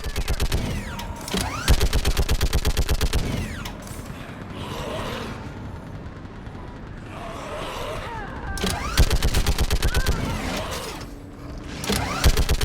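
Bursts of automatic gunfire in Mass Effect 3 during the Priority Thessia mission, loud rapid machine-gun volleys separated by quieter mechanical clatter and ambience, with voices calling out in between.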